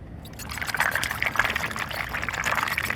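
An AIPER Seagull Pro robotic pool cleaner climbing a pool wall at the water line, churning up a steady wash of splashing, trickling water that stays fairly loud throughout.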